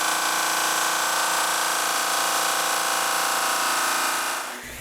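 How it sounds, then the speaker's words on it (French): Electric sander working over maple wood, a steady, loud, even whir holding constant for several seconds before cutting off at the end. "Pendant que la sableuse est sortie, là, j'en profite aussi pour faire la même chose avec l'érable."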